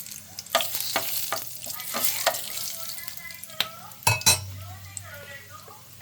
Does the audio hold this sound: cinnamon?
yes